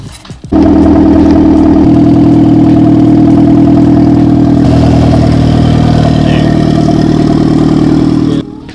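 A turbocharged Mazda Miata engine catches almost at once and settles into a loud, steady idle, close up with an even rumble, then cuts off at the end.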